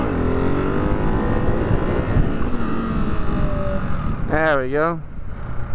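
A 2024 Hypermono 698 motorcycle's engine drones loudly and steadily close by, with pitch shifts near the end as it passes, while someone speaks briefly over it.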